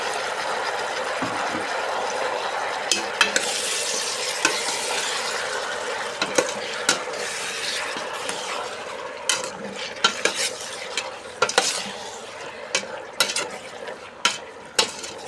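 Squid stirred and fried in a pan for a squid sinigang with lemongrass, a steady sizzle with sharp utensil scrapes and clinks that grow more frequent toward the end, close up and with no talking.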